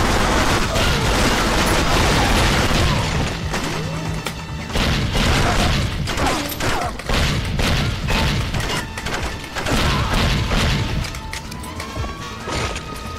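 Video game gunfire and crashing explosions from 007 Agent Under Fire fill the whole stretch. Repeated loud shots and impacts overlap with heavy booms in a dense, continuous barrage.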